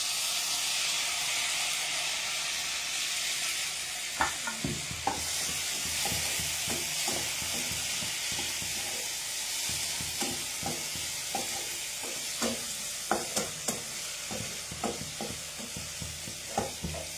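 Tomato, onion and garlic frying over a medium flame in a pan, a constant hiss of sizzling oil with irregular knocks and scrapes of stirring, close by and without talk.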